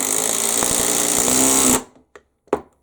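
Bosch impact driver hammering a wheel lug nut, a loud continuous rattling buzz for nearly two seconds that cuts off abruptly, followed by a couple of short clanks and knocks.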